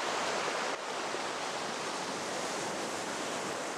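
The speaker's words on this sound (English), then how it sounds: "The beach was mainly well-rounded pebbles, which make some rather pleasant sounds, tumbling inside the crisp waves." Waves wash over well-rounded pebbles on a Shetland beach, a steady, close, broadband hiss and rattle of stones tumbling in crisp surf, with no voices present.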